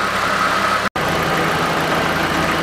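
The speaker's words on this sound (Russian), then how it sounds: "Прогрел двигатель, включился вентилятор, работает." A warmed-up Chevrolet Niva 4x4 engine idles steadily at close range, a continuous even rumble with a brief dropout near the start.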